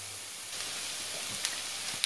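Onion frying in a pan gives a quiet, steady sizzle that runs throughout, with a couple of faint ticks and pops near the end.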